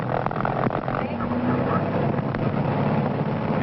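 A light aircraft piston engine runs steadily at 2100 RPM during a vintage pre-flight engine start check, giving a continuous droning hum with a person speaking over it.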